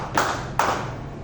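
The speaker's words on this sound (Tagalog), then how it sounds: "Bigyan ito ng 5 palakpak at 5 tadyak." A classroom group in a teaching demonstration sets off sharp bursts of clapping and stomping, with two loud hits followed by the start of a third, heard close up.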